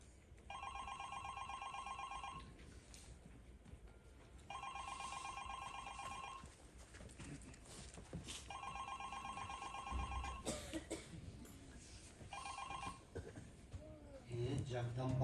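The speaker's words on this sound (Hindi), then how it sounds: "दुकान पहुंची तो फिर से दुकान के फोन की घंटी बजी।" A shop telephone bell rings on a stage in repeated bursts, four rings of about two seconds each with short gaps between them, over low room noise, with a voice briefly heard near the end.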